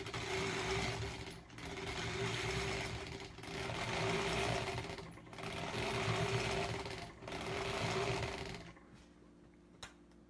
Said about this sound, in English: I'm gonna just sew with like 1/8 of an inch seam allowance